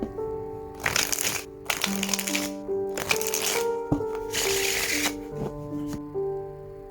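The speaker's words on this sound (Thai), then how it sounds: "เดี๋ยวจะมาสับไพ่และดูกันเลยนะครับ" Tarot cards are shuffled by hand in repeated riffling bursts, close and fairly loud, with no talking over them.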